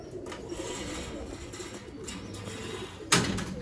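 Teddy pigeons on a rooftop, soft low cooing going on steadily at close range, with a brief sharper knock or flutter near the end and no voices.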